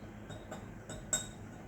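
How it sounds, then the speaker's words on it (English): A spoon stirs a large tablet into a small glass of warm boiled water, giving a few light, irregular clinks against the glass with one sharper ring among them, faint and close. "So you should stir this, keep it aside"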